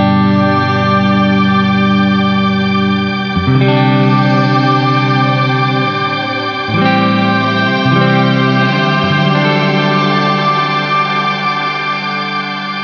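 Electric guitar through a G-Lab Rebel reverb pedal on its minimal magic setting: sustained chords ring with a long, lush reverb wash, re-struck a few times, loud and close with no shimmer layer and no voices.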